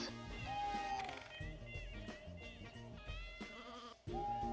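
Sheep bleating in the Sheep Raider video game, a couple of short wavering calls heard over layered game music and effects.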